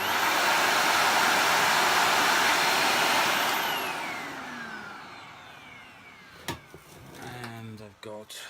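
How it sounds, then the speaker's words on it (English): A SEBO Felix vacuum cleaner, refurbished, roars loud and steady close by for a few seconds, then winds down as its whine fades away while a person starts talking over the dying motor. "So what I'm going to do is I'm going to switch it on."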